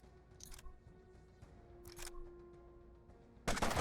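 Gunfire in the turn-based tactics game Mutant Year Zero, a few short bursts spread across the clip, the last and loudest one landing near the end, over a steady game soundscape.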